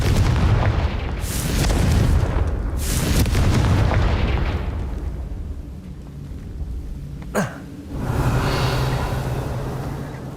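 A Confringo fire spell in the Hogwarts Legacy video game bursts with deep booming explosions, a series of rumbling blasts that swell and fade, then a sharp crack followed by another sustained roar.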